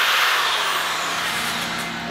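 A power drill running steadily with a clamped flex shaft attachment, giving a loud, continuous motor whine with a bright high-pitched hiss. It sounds up close, with no talking over it.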